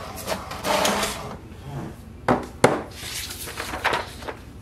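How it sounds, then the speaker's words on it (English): An HP DeskJet 4152e printer runs off its information page with rattling mechanical shuffles, a couple of sharp clacks of paper feeding, and whirring carriage movement, fairly close with no talking. "wait for the printer to print printer information page"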